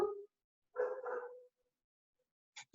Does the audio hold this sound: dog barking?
yes